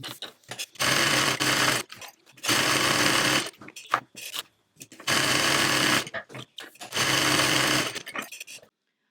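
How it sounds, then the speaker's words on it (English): Sewing machine top stitching the handles of a tote bag, running in four long bursts of steady, rapid stitching, with short quiet pauses and small handling noises between runs. "Now we're going to head to our sewing machine."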